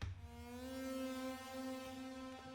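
The default preset of the Flex synth, with its pitch altered, plays one sustained, buzzy tone rich in harmonics; it holds steady for about two and a half seconds, heard alone at low volume.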